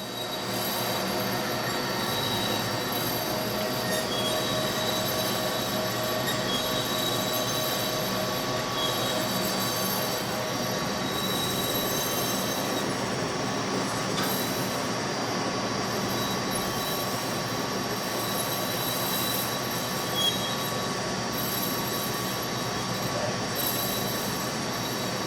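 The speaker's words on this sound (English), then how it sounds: "We've got it loaded up on our neoprene in-feed conveyor." A RAM SCD300 industrial strip cutter and dicer runs steak through on a neoprene in-feed conveyor, giving a loud, continuous mechanical whir with steady humming tones and a faint rattle, unbroken for the whole stretch.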